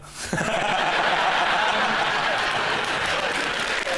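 A panel show studio audience bursts into warm, loud applause mixed with chuckles and laughter, the clapping rising sharply and holding steady for several seconds.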